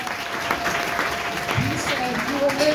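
A church congregation breaks into brief applause, dense clapping under a voice that continues speaking over it.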